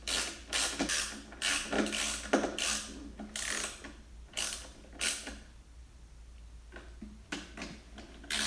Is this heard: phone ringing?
no